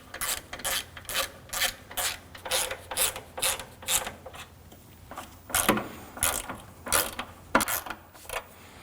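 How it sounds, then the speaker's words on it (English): Bracket nuts on a 2013-2015 Subaru XV Crosstrek battery hold-down are tightened with a hand ratchet, giving rapid bursts of close, crisp clicking in a steady repeating rhythm with short pauses between strokes. "Hold the bracket up while you tighten down the nuts."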